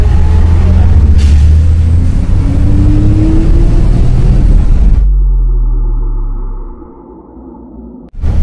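Road traffic jam of cars and trucks held up on a road blocked by an accident in Saudi Arabia, a loud continuous engine rumble close by that drops away sharply partway through before a brief burst returns.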